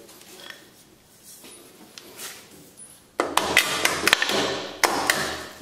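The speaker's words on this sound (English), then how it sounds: "Oh yeah, nothing a little hammer can't take care of." Hammer blows tapping a bolt into a go-kart engine mount, a run of sharp metallic knocks that starts partway in and repeats irregularly at close range, with no talk over them.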